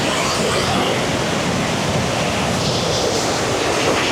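Water from a wide waterfall in Bislig City, Philippines roars as a loud, constant broadband rush, heard up close with no breaks.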